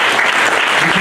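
Steady, dense applause from a church congregation during a Sunday morning service in Cergy, filling the space evenly for the whole moment without any voices rising above it.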